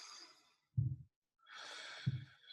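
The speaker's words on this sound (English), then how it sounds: "Some ocean wave breathing." Deep ocean wave breathing during a fitness exercise routine: two slow cycles of airy, drawn-out breaths, each with a soft low rush, heard close with pauses between them.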